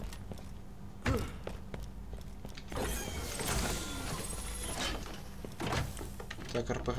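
Doors open in the Borderlands 2 game with a heavy thunk and sliding rumble, followed by metallic whooshes and thuds. Someone talks over the sounds.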